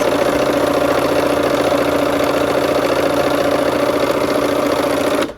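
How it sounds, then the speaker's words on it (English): A sewing machine runs steadily along the long side of fabric seams in assembly-line fashion, giving a loud, close, continuous whirring motor hum with a fine rhythmic stitching pulse that cuts off right at the end. "here we are at the machine again. We're just gonna sew those seams."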